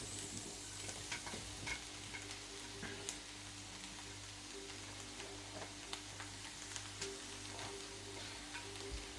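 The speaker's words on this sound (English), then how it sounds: "I'm going to add the aubergines to all this." Aubergines frying in a pan with other vegetables, a quiet steady sizzle with scattered light scrapes and taps of a spoon as they are turned, fairly soft and close.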